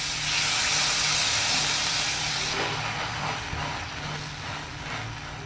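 Butter and pav bhaji sizzle on a hot pan as a loud, broad steamy hiss that eases after a few seconds into a softer, uneven crackle, close up with no voices.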